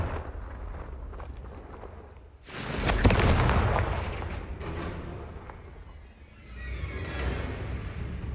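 A Confringo blasting spell in Hogwarts Legacy lands as one heavy explosive boom with a rumbling tail, followed by a softer second rumble and low crackling game ambience.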